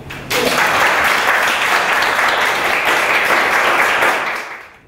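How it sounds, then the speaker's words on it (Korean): A lecture audience breaks into loud applause that starts abruptly, holds as a dense wash of clapping for several seconds, then fades. "박수하십시오"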